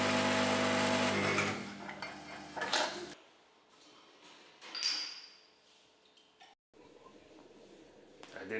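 A home coffee machine runs loudly in a kitchen with a white sink, a dense mechanical whirring and grinding that cuts off abruptly, followed by quieter clinks, hissing and rattles, close to the microphone.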